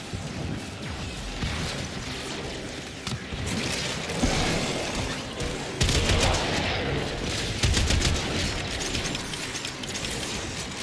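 Rapid turret fire from Grasp of Loke in Warframe, with dense rattling shots and crashing impacts that keep going at a steady loudness throughout.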